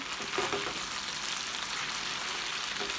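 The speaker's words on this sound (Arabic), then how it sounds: "هلا بقلبهم وبتركهم لحد ما يستوي الدجاج ويستوي الفطر" Sliced chicken and mushrooms with corn frying in a pan and being turned: a close, even sizzle with a few soft stirring scrapes near the start and end, no voices.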